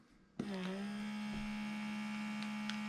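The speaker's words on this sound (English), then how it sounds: "It's taking all the actual air out of the unit all by itself." FoodSaver cordless vacuum sealer switching on with a click and then a steady, close electric motor hum as it pumps air from a bag.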